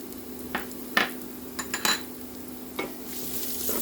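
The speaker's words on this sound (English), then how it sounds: "let's add minced garlic" Minced garlic frying in a pan for arroz caldo rice soup, a steady low sizzle broken by a few sharp scrapes and clinks of a utensil against the pan, close and alone.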